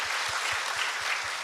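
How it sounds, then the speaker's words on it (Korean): An audience at a school admissions talk show applauds, a dense continuous patter of clapping hands heard fairly faintly, with a soft regular thumping underneath and no voices. "박수 한번 주세요"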